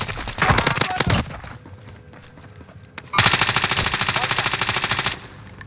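Automatic gunfire in a Call of Duty match on Rebirth Island, loud rapid bursts of shots, one short volley, a lull of quieter ambience, then a longer sustained stream of rapid fire.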